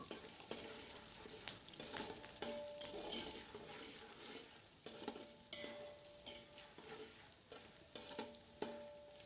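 Puffed rice chivda with coarsely crushed garlic sautéed in a pan: repeated rustling scrapes of a spatula tossing the dry rice in a regular rhythm over a faint sizzle, close but quiet.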